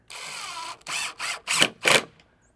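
A power drill drives screws into a wooden ramp for RC monster trucks in four or five short whirring bursts, each under a second, close by with no talk.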